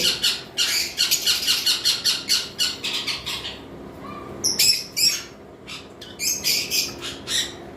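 Pairs of caged lovebirds and conures give loud, harsh squawks in rapid repeated bursts, with a brief lull before the calling resumes.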